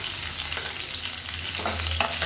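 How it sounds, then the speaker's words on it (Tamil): Medium-sized large onions sizzling in hot oil in a pan alongside green chillies for a kuzhambu, a steady crackling fry with a few stirring scrapes, close and alone. "இப்போ வெங்காயம் சேர்த்துக்கலாம்"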